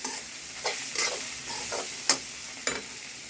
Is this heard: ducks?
no